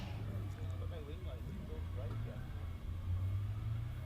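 A Porsche Cayman racing car drones low and steady on a circuit during a race, its engine rumble held under continuous commentator talk.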